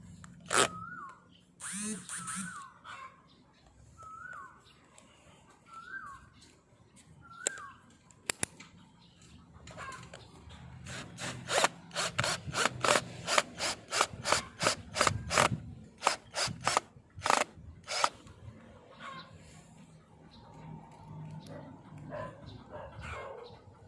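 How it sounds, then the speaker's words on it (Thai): Screws are driven into wooden and plastic wall anchors with a series of rapid, sharp ratcheting clicks in the middle stretch. Short high whines or yelps come early on, and a voice is faintly present. "แล้วก็จะทำการยึดสกรูนะครับ"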